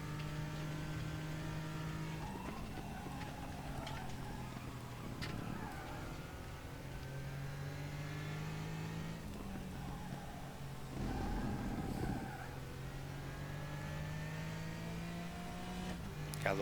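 Race car engine droning steadily while lapping in RaceRoom Racing Experience, close and sustained with repeated rises and falls in pitch as it revs up and shifts, a few faint ticks, no talk.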